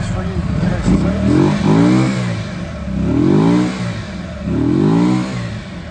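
Engine of a 2023 Keeway RKC 125 motorcycle revving up three times, each rise and fall of revs loud and close, with a steady idle between the blips.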